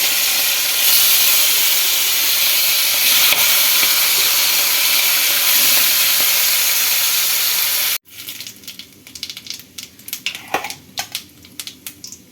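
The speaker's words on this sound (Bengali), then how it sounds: "তেল গরম হয়ে গেছে। এক এক করে ইলিশ মাছের পিসগুলো হালকা ভেজে নিতে হবে।" Pieces of hilsa fish frying in hot oil make a loud, steady sizzle for several seconds, then the hiss drops to a quieter crackle with sporadic pops and spits.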